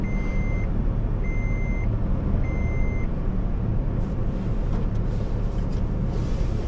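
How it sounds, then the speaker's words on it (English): Idling engine of a second-generation Toyota Tacoma pickup just after a cold start in 39-degree weather, a loud steady drone with belt noise, while a vehicle's reversing alarm beeps three times nearby over it. "Sorry, I haven't had my coffee yet, so here's the cold start."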